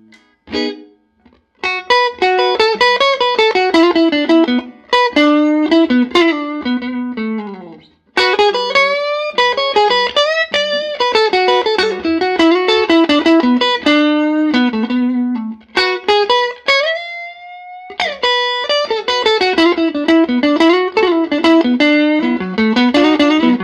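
Electric guitar playing bluesy lines through a warm, slightly overdriven Grammatico Kingsville tube amplifier, with bent notes and short pauses between phrases.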